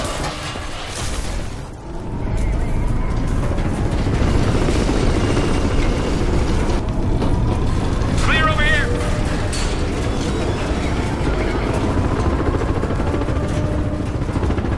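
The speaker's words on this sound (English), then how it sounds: "And they've got attack helicopters in support." Attack helicopters approaching in a video game: a constant loud rotor drone and rumble over dense battle noise, with voices talking throughout.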